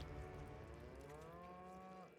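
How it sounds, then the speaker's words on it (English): Cows in a video game give one long, drawn-out moo with a gently falling pitch, fairly faint and heard alone. "Yeah, see, cows."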